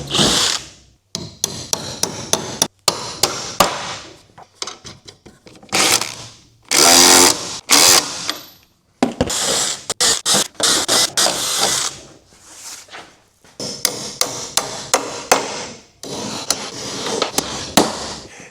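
An impact driver with a 3/4 inch (19mm) socket tightens bolts on a dock bracket during DIY assembly. Loud, close bursts of rapid hammering rattle, repeated in several separate runs with short pauses between them.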